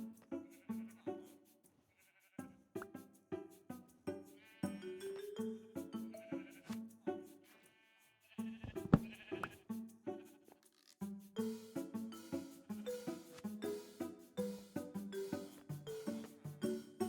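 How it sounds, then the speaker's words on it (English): Sheep bleat over and over on a video game sheep farm, many overlapping calls that carry on steadily and at moderate volume with no talking. "We need to get rid of the sheep farm and move it over there"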